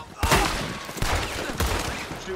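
Video-game gunfire in a Western-themed roleplay server, with three sharp bursts of shots close together over a noisy, echoing background and some voices.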